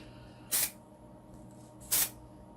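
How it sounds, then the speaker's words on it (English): White coating paint sprayed from a distance onto an alcohol ink painting, two short hissing bursts of a spray can about a second and a half apart, fairly close, with no talking. "So I'm just spraying it from far away towards the edges here."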